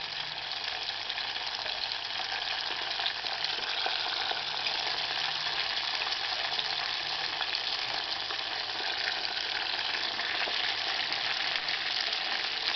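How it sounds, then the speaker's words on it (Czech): Pastry rolls frying in a pan of hot oil, a steady dense crackling sizzle that stays even and close throughout with no talk. "Jdeme smažit."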